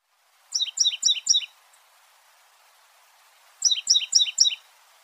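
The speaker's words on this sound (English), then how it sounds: "Titmouse" A titmouse gives two separate bursts of four quick, high, rapid notes each, with a clear pause between them against a silent background.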